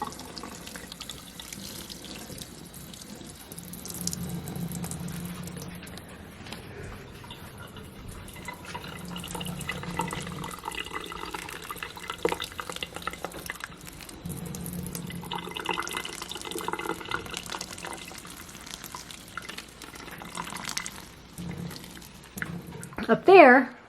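Tap water runs into an indoor sink to soak plant pots, a steady splashing flow with drips and changes in tone, then a brief louder burst near the end.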